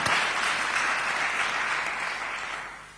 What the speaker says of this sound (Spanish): Un aplauso al compañero que estará siempre con nosotros